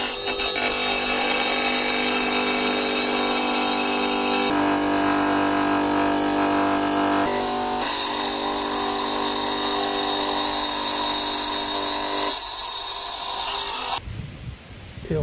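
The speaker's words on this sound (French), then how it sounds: "disposer d'une machine à couper le carrelage, qui est une machine avec un disque au carbure et à eau" A wet tile-cutting machine with a water-fed carbide disc slices through a paving slab for a terrace, a loud, steady grinding whine that holds unbroken for most of the time, then drops off abruptly near the end.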